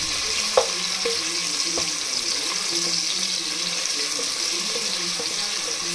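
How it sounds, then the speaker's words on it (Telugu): Paneer pieces and onions frying in oil make a continuous, even, hissing sizzle with a few faint taps and a sharp click near the start, steady and fairly close throughout. "ఇది కూడా గోల్డెన్ బ్రౌన్ కలర్ వచ్చే వరకు మనం ఫ్రై చేసుకోవాలి."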